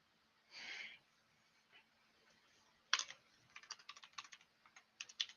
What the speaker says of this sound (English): You can hear me typing probably.